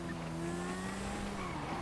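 A car skidding in a video game, a continuous squealing tire screech with droning engine tones, steady and fairly loud across the whole moment.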